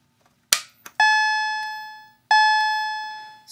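A BG-12 fire alarm pull station wired to a homemade controller sets off an alarm sounding two loud ringing electronic chime tones that decay slowly, following a sharp clack, indoors with no talking.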